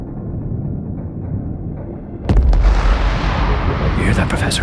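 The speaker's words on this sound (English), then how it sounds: "You hear that, Professor? Cannon fire." Cannon fire from a warship lands as a sudden heavy boom that cuts through a low rumbling undertone and leaves a roaring, crackling wash trailing after the blast.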